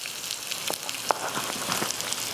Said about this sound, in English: And I'm going to throw the onions in.